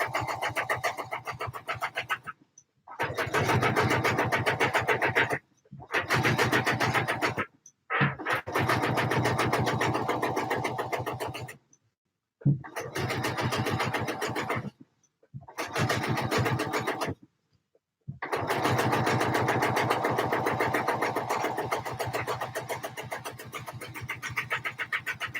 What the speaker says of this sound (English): Stitching's done.